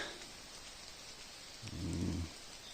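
Steady rain falls in a wild Carpathian forest, a soft even hiss of drops on leaves and ground, with a brief low rumble swelling near the end.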